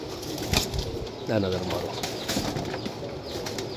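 A pigeon flaps its wings in a brief burst and gives a low coo, close by, while someone talks over it.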